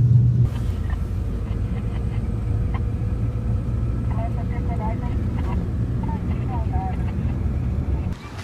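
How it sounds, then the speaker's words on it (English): A steady, loud engine drone from a small propeller plane heading to the Isle of Man, a low rumbling hum with some wind buffeting, and faint tonal chirps in the middle. "Little prop plane that we're going on."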